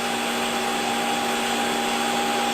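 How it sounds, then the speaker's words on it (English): A Hottop KN-8828P coffee roaster runs with its fan at maximum and its drum turning during a roast, a loud constant whooshing whine with steady tones throughout and no talking. "So this is as noisy as the Hottop gets during roasting, and you can still hear the movement of the drum quite clearly over the fan."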